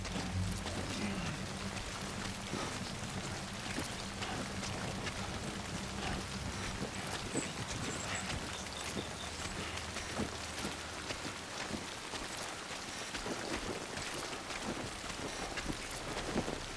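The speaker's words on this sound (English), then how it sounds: "So completely unavoidable the rain in this situation." Steady rain falling in the Death Stranding video game, a dense continuous patter with a low rumbling undertone, sustained throughout with no talking.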